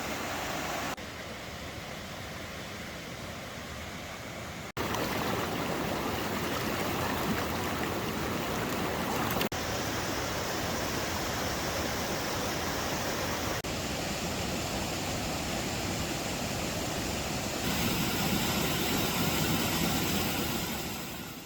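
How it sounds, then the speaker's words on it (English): White Rock waterfall outside Tellico in the North Carolina mountains: a steady, broad rush of falling water heard close and continuous throughout, with no voices over it. "the White Rock waterfall here just outside of Tellico is one of the prettiest that there is"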